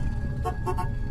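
A short double courtesy tap of a car horn, two quick light toots over a steady background hum.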